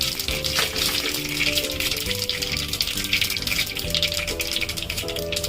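Cumin, sesame seeds and asafoetida sizzle in hot oil, a continuous crackling fry at moderate loudness under background music, with no speech.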